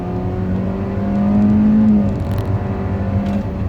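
Hyundai Creta engine in Sport mode, revving hard under acceleration: a loud, steady mechanical drone that swells, then drops in pitch as the gear shifts and keeps pulling, heard close with no talking.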